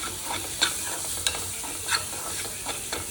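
Spices such as kitchen king masala, Maggi masala and onion-garlic masala are stirred in a pan for dal khichdi, with a steady sizzle and periodic scraping strokes of a large spoon, close and moderately loud.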